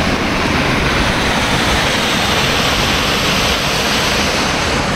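A waterfall in Meghalaya, India, roars as a dense, steady rush of flowing water, loud and close, with no letup and no voices.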